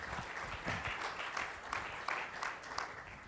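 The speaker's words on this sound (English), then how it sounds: "Please welcome Mr. David Avrin with a big round of applause." Faint, steady applause from a conference audience welcoming a speaker to the stage, an even spread of many hands clapping at a distance.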